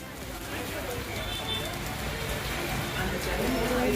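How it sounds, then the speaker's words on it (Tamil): Heavy rain pours steadily at night during a thunderstorm in Tamil Nadu, a dense continuous hiss that stays loud throughout with a faint voice underneath. "இரவில் இடி மின்னலுடன் கூடிய கனமழை கொட்டியது"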